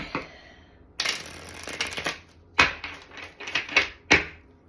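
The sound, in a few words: shuffling cards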